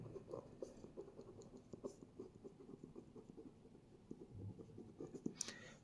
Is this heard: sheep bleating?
no